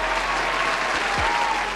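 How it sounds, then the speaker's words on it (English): A crowd applauds steadily, dense clapping at moderate loudness throughout, with no pause. "can I get a round of applause"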